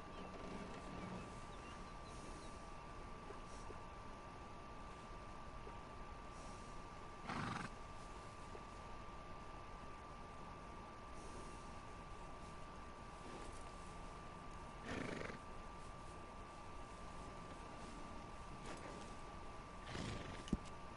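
A horse in the video game Red Dead Redemption II gives short whinnies and snorts about every seven seconds over a steady low ambient hum, with faint hoof sounds and no talking.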